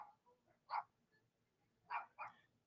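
Dogs at a nearby dog park bark faintly in the distance, three short, muffled woofs spaced apart over a quiet background.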